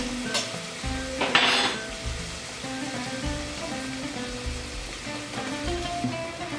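Tomatoes and whole green chilies sizzle in a pan with ginger, a steady close frying hiss broken by short stirring scrapes, no talking.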